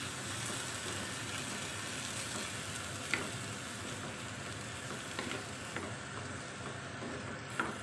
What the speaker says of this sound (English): The onion is brown, you can add tomato. So stir.